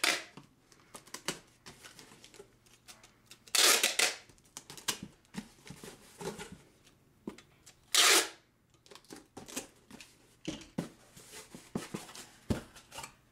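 Packing tape is pulled and pressed onto a small 7 by 7 by 6 inch cardboard shipping box for mailing geckos, with two loud ripping tape pulls among softer rubs, taps and handling noises.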